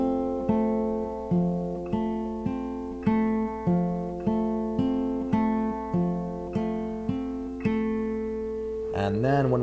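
Fingerpicked acoustic guitar playing the pattern from a song with thumb, first and middle fingers, steady repeating plucked notes in a regular rhythm, close and clear, ending with a brief bending or sliding sound.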